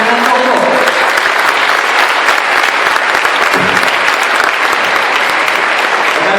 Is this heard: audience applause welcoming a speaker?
yes